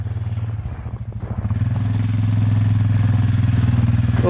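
Four-wheelers running around a practice course laid out in a yard, their engines droning steadily and swelling louder and closer after a rougher, clattering start.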